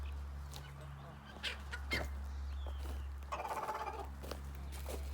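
A backyard flock of roosters and chickens, including Spitzhauben and Legbar birds, clucking and calling in short, scattered bursts over a steady low hum, with some faint voices in the mix.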